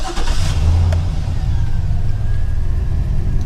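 A car engine cranks briefly and catches, then settles into a loud, steady idle rumble close by.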